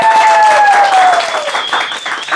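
Studio audience applauding a departing talk-show guest, loud and full at first then thinning slightly, with a tonal whistle or squeal gliding over the clapping.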